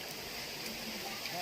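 Heavy rain pours steadily outdoors on the hill path up to the Kapilas temple, a dense, even broadband hiss that stays constant throughout with no distinct drops.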